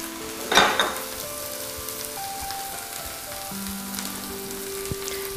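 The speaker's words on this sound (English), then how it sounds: "The vegetables are going to cook in the acidic lime juice and soften up a bit." Vegetables sizzle in a pan as they cook in acidic lime juice: a steady close-up hiss with one brief louder burst near the start and soft tonal sounds underneath, no voices.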